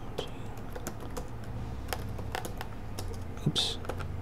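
Keystrokes on a computer keyboard during setup of Fedora 15 with GNOME 3, a steady run of close, light clicks spread across the clip, with one sharper click near the end.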